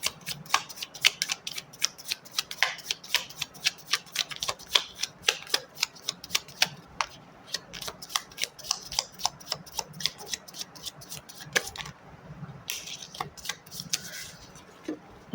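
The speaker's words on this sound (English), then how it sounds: "Okay, one more shuffle." Tarot cards are shuffled close up in quick, crisp flicks and snaps, a rapid irregular patter of papery clicks that continues for several seconds with brief pauses and no talking.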